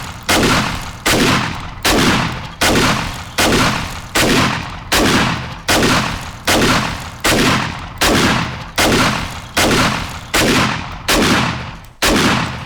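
Drum-magazine shotgun firing in 7 Days to Die, about sixteen loud, evenly spaced blasts roughly every 0.8 seconds, each with a sharp crack and short decaying tail, no voices.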